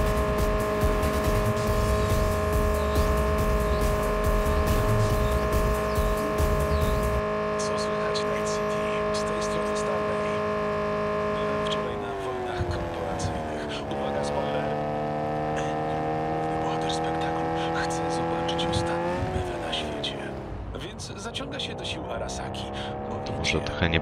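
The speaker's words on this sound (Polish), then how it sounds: "Głośno z tego auta." A car driven in the video game Cyberpunk 2077 roars loudly with a steady engine drone and shifting revs that rise and dip, with voices over it throughout.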